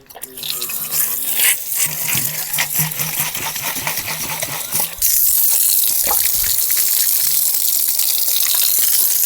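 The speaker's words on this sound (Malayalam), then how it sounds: "വാഷ് ചെയ്ത് ഇതിലൊന്ന് വെള്ളം നിറക്കുന്നുണ്ട്" Water running from a tap into a container while a V3 Twin shifter scooter is being washed, a continuous splashing gush that shifts to a steadier, brighter filling stream halfway through, close and loud.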